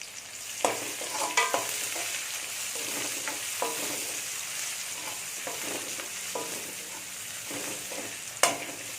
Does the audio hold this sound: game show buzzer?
no